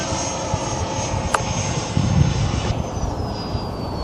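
A Freewing FA-18 RC jet on its takeoff run, the electric ducted fan giving a loud, steady whine and roar that rises and then shifts in pitch as it pulls away.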